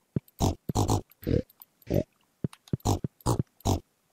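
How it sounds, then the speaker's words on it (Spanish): Pigs oinking in Stardew Valley, a run of short grunty calls repeating in quick bursts with brief pauses between them, loud and close with no talk over them. "Tengo aquí 12 cerdos"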